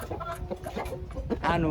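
Chickens on a rooster farm cluck in short bursts over about two seconds, with a louder flurry of calls at the end.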